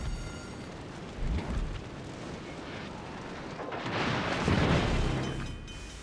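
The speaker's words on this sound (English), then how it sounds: "The ship is on fire!" A burning ship in a naval video game, heard as a stretch of rumbling booms and crackling blasts with a louder swell of fiery roar toward the end, fairly close and without talk.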